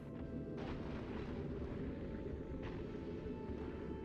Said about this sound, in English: Legendary railgun turrets and this shooting speed